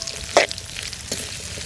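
Onions, green chillies and dried fish sizzling in a pan for a Jaffna-style mutton bone curry, a steady fry with one sharp stir or scrape near the start and a softer one later.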